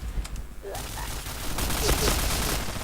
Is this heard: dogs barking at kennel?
no